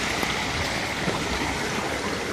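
Water rushing down a clear stream beside a waterfall, a steady, close babble and hiss of flowing water with no pauses, at an even, moderate loudness and no voices.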